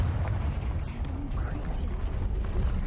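A fire-blast spell cast in the Hogwarts Legacy video game lands as a low, rumbling explosive burst under a continuous dull roar, with speech nearby.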